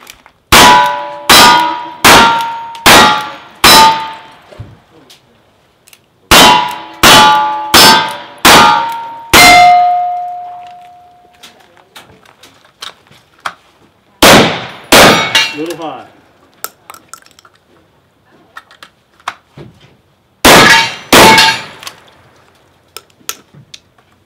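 Pistol shots at a cowboy action shooting stage ring steel targets in quick runs of five, each bang followed by a bright metallic clang. Quieter pauses separate the runs, and a few louder single hits come later.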